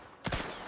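A quick cluster of gunshots in Outer Worlds 2, two or three close sharp cracks in under half a second with a brief tail, fairly quiet in the mix and with no talking.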